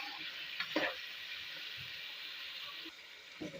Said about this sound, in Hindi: इसको अच्छे तरीके से मिक्स कर लें ताकि सब स्पाइसेस में अच्छे तरीके से घुल जाएं, मिक्स हो जाएं।